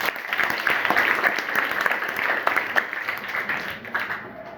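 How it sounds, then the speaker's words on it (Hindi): A school audience in Kerakat, Jaunpur breaks into sustained applause, a dense wash of many hands clapping together at steady loudness that tapers slightly toward the end, with no talking over it. "एक बार ताली बजा लीजिए।"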